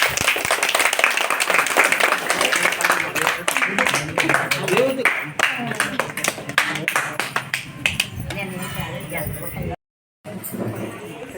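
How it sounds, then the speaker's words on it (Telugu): Women clap at a puja honouring ceremony, with a dense, sustained volley of handclaps up close. People talk alongside, and the sound cuts out briefly near the end before resuming. "చప్పట్లు కొట్టండమ్మా."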